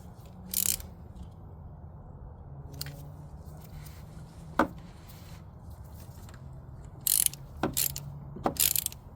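A few sharp mechanical clicks and ratcheting bursts from a ratchet torquing bolts on a VW 2.0T TSI high-pressure fuel pump, spaced apart, over a low steady hum in a quiet workshop.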